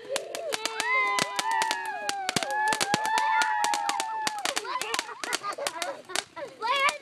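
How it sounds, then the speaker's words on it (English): Firecrackers and fireworks go off in rapid sharp cracks and pops, dense and loud, with whistling tones and voices underneath. "Why are we making the fireworks?"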